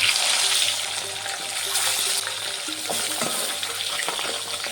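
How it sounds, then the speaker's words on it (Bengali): Pabda fish fry in hot oil in a wok, a loud, dense crackling sizzle that eases a little after the first second and carries on with scattered spatters and light clinks; no one speaks. "তেলটা গরম হয়ে গেছে, মাছগুলো দিয়ে দেবো।"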